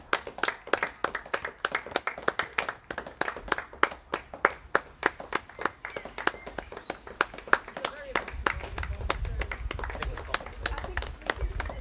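People clap outdoors in the evening during the coronavirus lockdown, a steady run of close, sharp handclaps with more distant claps and tin-banging, under light birdsong and occasional chatter nearby.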